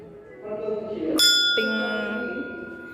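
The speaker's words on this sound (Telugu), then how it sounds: "వాళ్ళ ఇంటో కాలింగ్ బెల్ చూసారా అండి" A house calling bell in Visakhapatnam rings two bright chime tones in quick succession that ring out and fade, nearby and clear over a low background hum.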